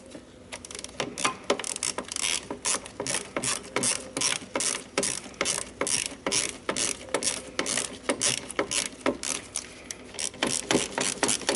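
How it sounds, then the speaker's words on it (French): A hand ratchet works loose the three fixing screws on a car's starter motor, giving a long run of rapid, sharp metallic clicks in quick regular strokes, close and loud, with no talking. "Je dépose donc mes 3 vis de fixation."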